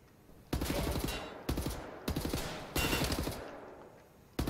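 Automatic gunfire from the video game Wolfenstein: The New Order comes in several loud, rapid bursts separated by short pauses, each burst ending with a fading tail.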